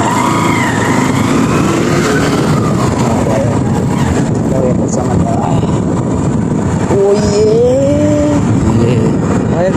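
A motorcycle engine drones steadily while riding, with traffic rumble and a few rising whines, loud and close.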